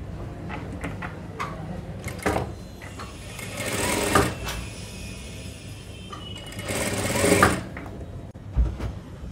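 A sewing machine stitches a high-neck blouse in short bursts: quick rattling runs of stitching, a longer run near the middle and another later, separated by pauses with small handling clicks, close and fairly quiet.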